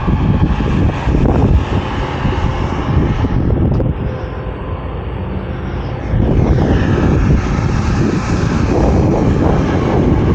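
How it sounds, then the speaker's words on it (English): A loud, steady mechanical roar of a new rooftop HVAC unit's blower running abnormally with no heat, with a whooshing airflow that dips slightly midway before returning to full strength. "That blower didn't sound normal."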